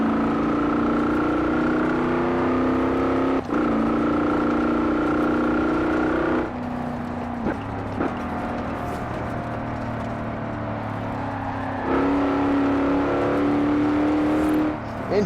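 Car engine in Forza Horizon 4 revving through roughly 3,000 to 4,000 rpm, a loud steady drone that drops and rises several times as the throttle changes, with no talk over it.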